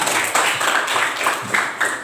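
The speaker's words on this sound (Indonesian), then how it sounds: "Benar, tepuk tangan." Students in a classroom clap together in a brief burst of applause, with several quick rhythmic waves of hand claps close by and no one talking over them.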